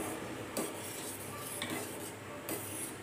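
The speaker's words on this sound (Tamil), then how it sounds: "லைட்டாக கிண்டி" A spoon stirs filtered jaggery syrup in a pot on the stove, making a soft steady scraping under a bubbling hiss, with three brief louder clinks of the utensil against the pot.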